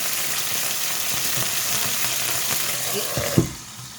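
Oil spatters and crackles in a frying pan with potatoes, onion, egg and asparagus in sauce, a dense steady sizzle that ends in a sudden knock before the sound drops and turns quieter.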